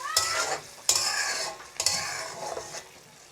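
Ground tomato paste and garlic sauté in a pan for a bata fish bhuna, with three distinct scraping stirs over a soft sizzle, close by and with no speech.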